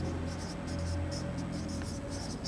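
Numbers being written by hand, a faint scratchy rhythm of short strokes sitting under a steady background hiss.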